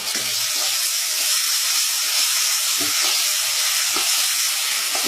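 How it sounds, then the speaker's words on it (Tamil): Onion with ginger garlic paste sizzles and hisses steadily in hot oil while being sautéed, a loud continuous frying crackle with occasional soft stirring knocks, no voices. "ஓரளவு வெங்காயம் வதங்கின பிறகு அது கூட இஞ்சி பூண்டு பேஸ்ட் சேர்த்துட்டு"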